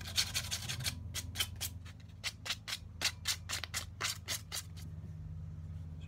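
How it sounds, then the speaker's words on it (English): An axe handle being sanded by hand with 240 grit sandpaper, a quick series of close, rhythmic scratchy strokes over a low steady hum, stopping near the end, with no talk. "So I'm just going to use some 240 grit on the handle."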